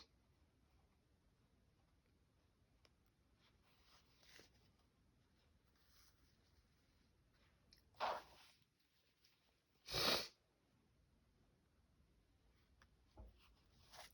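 A person sneezes sharply twice amid quiet indoor sewing, brief bursts standing out from near silence, with a few faint rustles and clicks around them.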